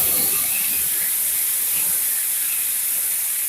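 A paste of cashew, ginger, green chili and tomato sizzles in a frying pan, a loud, steady, close hiss of frying that carries on without a break and with no talk over it.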